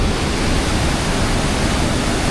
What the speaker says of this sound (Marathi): मी दाखवतो वॉटरफॉल